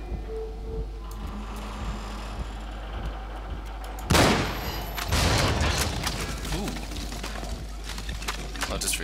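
A bolt action rifle fires in the Cryostasis game: one loud, sharp shot rings out midway over quiet mechanical game ambience, followed by clattering, rattling bolt and handling noises.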